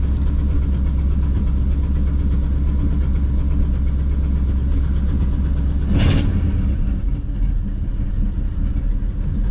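A restarted 1940 Mercury Eight engine runs loud and steady at a close, even idle, swelling briefly partway through, with no talking.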